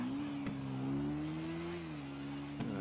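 A motorcycle passes in Grand Theft Auto V, a steady droning engine tone that rises slightly and then falls away.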